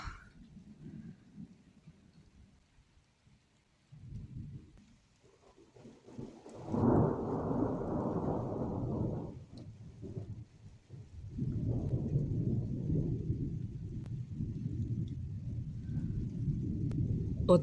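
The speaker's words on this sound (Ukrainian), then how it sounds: "По скрипту ніч, а на вулиці отака гроза." A summer thunderstorm over a rural garden breaks with low rumbling thunder, building from faint distant rolls to loud sustained rumbles with steady rain noise, no voices present.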